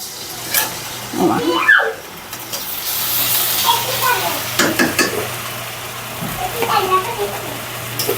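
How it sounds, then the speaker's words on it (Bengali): Onions and green chillies fry in a pan for Bengali potato chops, a steady sizzle broken by stirring clatter, while people, including a child, talk nearby. "আলুর চপের জন্য পেঁয়াজ ভেজে নিচ্ছি কাঁচামরিচ আর পেঁয়াজ"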